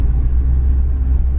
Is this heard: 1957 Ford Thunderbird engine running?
yes